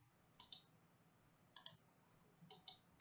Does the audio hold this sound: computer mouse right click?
yes